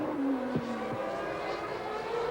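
A Formula 1 race car with broken right rear suspension spins on track, its engine note sliding and wavering with a brief tire-scrub burst, heard from a distance under a faint commentary voice.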